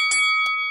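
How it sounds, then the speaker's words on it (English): A bell rings to open a wrestling podcast show, a bright sustained metallic ring with a couple of quick strikes, loud and close with nothing else around it. "let's get to it and ring the bell"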